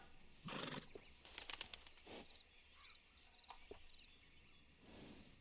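A horse in the open-world western game Red Dead Redemption 2 gives a short whinny followed by several snorts and soft hoof sounds, set against a quiet outdoor ambience with faint insect chirps.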